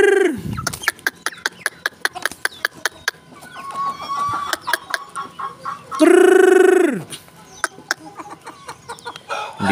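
Layer hens cluck close by in a rapid, uneven series of short clucks, broken by one loud, drawn-out squawk, with no voices over them.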